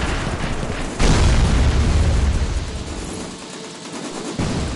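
Rapid gunfire and booming blasts from the video game 1976 Back To Midway, a dense loud burst of rattling shots and explosions that tapers off, then picks up again briefly.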